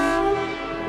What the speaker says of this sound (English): Train horns.